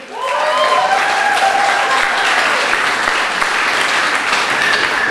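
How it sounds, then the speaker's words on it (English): An audience applauds at a Pecha Kucha art talk evening, a loud, sustained burst of clapping. Cheering and whooping voices rise over it near the start. "so a round of applause for Chewstick."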